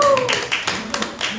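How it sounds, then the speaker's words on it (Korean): A church congregation claps its hands in a short burst of scattered applause during a sermon, with a voice talking over it. "박수를 한번 쳐봐."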